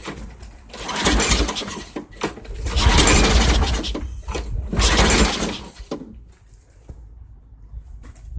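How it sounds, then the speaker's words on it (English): A 2006 Craftsman riding mower engine cranks and sputters in several loud bursts, trying to catch, then drops away to quiet near the end. "I believe that engine would run because it barked off a couple of times."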